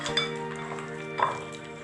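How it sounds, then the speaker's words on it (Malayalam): Peanuts being stirred into a spiced batter for bakery-style masala peanuts, a soft continuous wet mixing with faint clinks of utensil on bowl, close and unaccompanied by speech. "ഇത് നമുക്ക് ഈ മാവിലേക്ക് ഇട്ട് കൊടുത്ത് നല്ലോണം മിക്സ് ആക്കാം"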